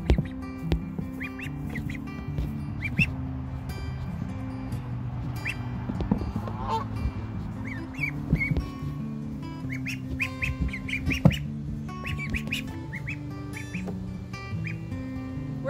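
Baby Pekin ducklings rescued after being dumped, peeping and calling in a steady stream of high chirps over a low rumbling background, fairly faint and close, without speech.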